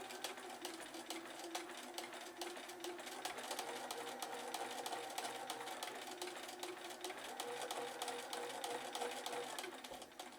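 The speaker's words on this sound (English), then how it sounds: "I'm going to stitch a 1/4 inch away from the first side of the line." Sewing machine running steadily for about ten seconds, stitching a quarter inch from a marked line on quarter-square triangle quilt units, a fast even whirring rattle at moderate level with no voices.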